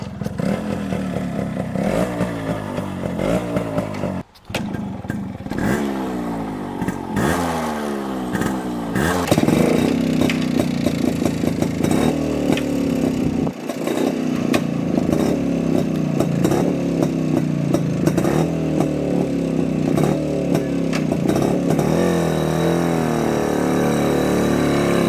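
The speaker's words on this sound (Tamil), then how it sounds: "King of roads road கிங்கை start பண்ணி காமிக்கிறேன் பாருங்கள்." A restored 1995 Road King two-stroke motorcycle is kicked over with clattering attempts, catches, then idles and revs loudly with a buzzy, popping exhaust that runs steadily close by.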